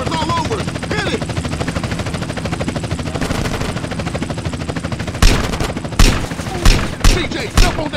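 In GTA San Andreas, a helicopter's rotor chops steadily, then several loud bursts of gunfire ring out in quick succession, with voices talking under the noise.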